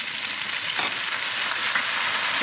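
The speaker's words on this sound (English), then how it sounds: "Get some nice sizzling going." Steady, bright sizzling from a hot frying pan as white wine hits it for clam sauce, a continuous hiss with small crackles and no talking.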